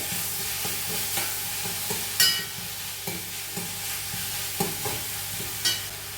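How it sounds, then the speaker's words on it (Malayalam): Chopped tomatoes sizzle in a hot pan for a chapathi curry while a spoon stirs them, giving a steady fry with regular scraping stirs and soft knocks against the pan, close up with no talking. "ഇനി നമുക്കതിലേക്ക് തക്കാളി ഇടാം."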